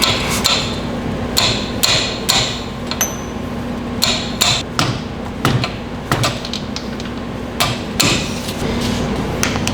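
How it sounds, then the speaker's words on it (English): A big socket is hammered to tap a new axle seal into place on a 3-rib bus transmission, giving a series of sharp metallic knocks in irregular groups, close and loud with no talk. "I just have a big socket I'm gonna use to tap it into place."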